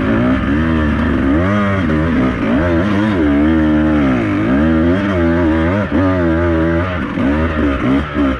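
A Beta 200RR enduro motorcycle on a group trail ride, its two-stroke engine loud and close, revving hard in rising and falling surges with a strained clutch, no voices.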